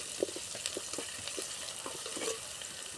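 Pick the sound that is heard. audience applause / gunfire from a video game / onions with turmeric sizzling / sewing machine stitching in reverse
onions with turmeric sizzling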